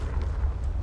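A Confringo explosion spell goes off in Hogwarts Legacy: a dense, rumbling fiery blast with a heavy low-end roar that sustains through the short moment, loud and close, with no talking.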